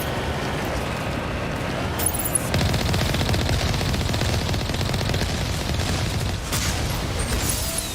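Sustained rapid gunfire fills a Mass Effect 1 firefight, dense bursts and booms running loud and continuous throughout with no voices.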